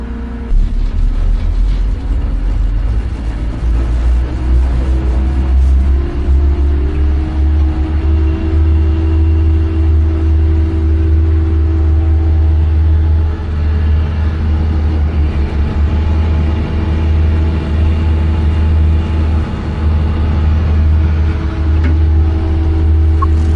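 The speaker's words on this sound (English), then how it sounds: "We'll now turn on the vibrator motors." Vibrator motors running on a Jackson 6700 rail track surfacing machine with its engine held near 1200 RPM, a loud steady low droning rumble with a constant hum throughout.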